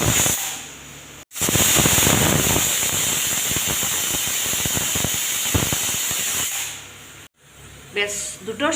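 A pressure cooker boiling potato pieces on a gas stove vents a loud, steady rushing hiss of steam with a sharp break partway through, close and continuous.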